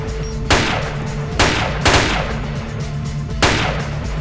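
Four sharp, loud rifle shots in ARMA 2 Project Reality ring out at uneven intervals, two close together, each with a brief echoing tail over a low steady hum.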